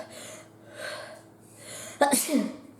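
A person sneezes once, loud and close, after a few quick inward breaths that build up to it.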